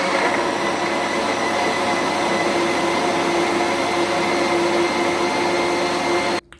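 A blender motor whirring steadily as it blends raw red beetroot and orange into a smoothie, a loud, constant, close drone lasting several seconds before cutting off abruptly at the end.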